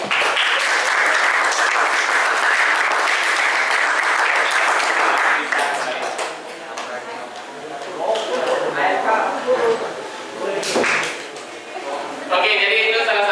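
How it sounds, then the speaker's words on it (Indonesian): Classroom audience applauds a student group after its presentation: dense, loud clapping for about five seconds, then thinning to lighter scattered claps with brief bursts near the end. "mari kita berikan tepuk tangan pada kelompok 1"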